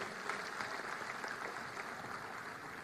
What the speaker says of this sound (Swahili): Tuwapigie makofi jameni.